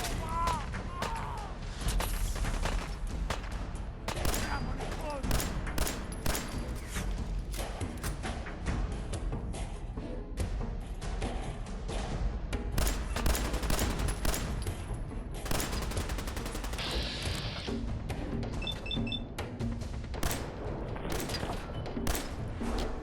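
Dense, rapid gunfire from the video game Fallout 4: loud overlapping volleys of shots and bursts crackle almost without a break, with heavy thumps mixed in.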